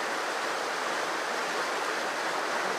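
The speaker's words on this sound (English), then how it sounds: "that's the fast water we're going to fish now" Steady, full-bodied rush of the fast-flowing Annan River, continuous and close, with no other sounds breaking through.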